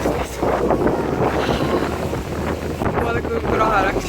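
Warm wind gusts buffet the microphone outdoors in the Croatian mountains, a loud, continuous rumbling roar with faint voices in the background.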